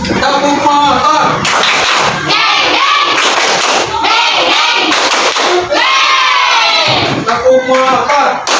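A standing group of teachers at an academic supervision session performs a loud shouted clapping chant in unison, rhythmic claps and thumps mixed with crowd voices close and energetic throughout.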